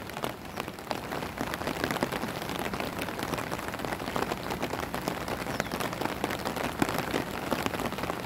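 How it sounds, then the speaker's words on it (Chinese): Steady rain patters densely and evenly across a creek and its surroundings at Zhuxi in Tainan, a continuous close hiss with scattered sharper drops. "这下雨当中的那个溪水看起来很漂亮"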